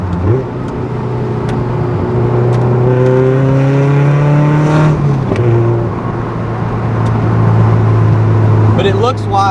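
A Mazda NC Miata with a modified exhaust revs up and holds a loud, raspy drone, rising and falling through several pulls, close by, with crackles at the end.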